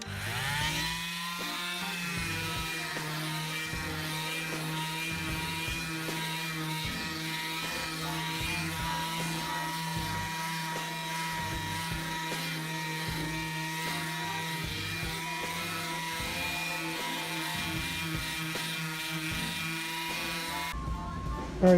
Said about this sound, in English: sanded down this fender as much as I could